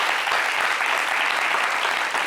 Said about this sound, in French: Applaudissez pour le public All Black.